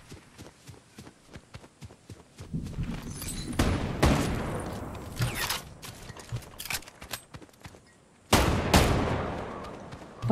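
Gunfire in Fortnite: rapid, scattered shots and bursts of automatic fire, with faint footsteps between them, growing louder and denser midway and ending with a sharp, close volley.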